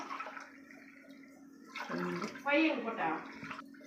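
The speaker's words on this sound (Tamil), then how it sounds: "மூணு கப்பு தண்ணி ஊற்றிக்கலாம்" Water pours and splashes into a bowl nearby for mor kali batter, a gurgling stream under a person speaking softly.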